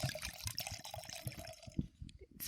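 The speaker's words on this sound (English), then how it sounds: "Can I pour you some red wine now?" Red wine is poured into a glass, a close, soft gurgling splash that runs unevenly for a couple of seconds.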